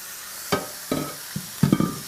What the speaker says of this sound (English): I'll break up the mince once it's in there.